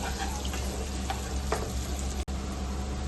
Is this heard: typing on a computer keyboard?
no